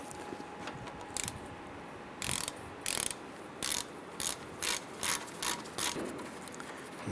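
A ratchet loosening a 15mm brake caliper bolt on a 2005-2010 Chrysler 300, a series of sharp clicking bursts in a steady rhythm, close and alone with no talk.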